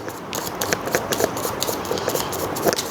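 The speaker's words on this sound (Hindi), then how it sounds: "मैं वापस रख के शफल करूँगी।" Tarot cards shuffled by hand, giving quick, crisp riffling and rustling bursts in an uneven rhythm, close and fairly soft.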